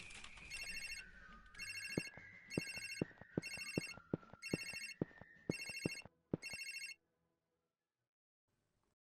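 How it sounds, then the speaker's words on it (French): A telephone rings in repeated bursts, about seven rings with short gaps, close and clear, then silence. "il y a le téléphone qui sonne."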